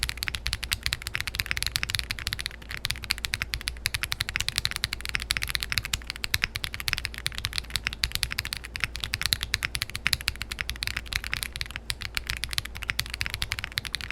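Fast, continuous typing on a Zoom65 V2.5 mechanical keyboard with its plate foam removed, a dense stream of close, crisp clacks with no talking.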